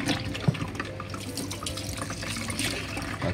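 Water runs steadily into soursop pulp to draw out more juice, a continuous close trickle and splash with a brief knock partway through.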